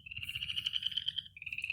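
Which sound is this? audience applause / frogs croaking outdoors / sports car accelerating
frogs croaking outdoors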